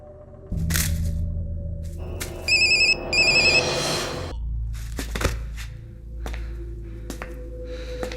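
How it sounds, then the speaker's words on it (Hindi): A mobile phone ringtone rings on with no answer, a bright repeating electronic tune over a low hum in an indoor comedy scene, followed by clicks and rustles. "भाई रिंग बज रही, वो उठा नहीं रहा है।"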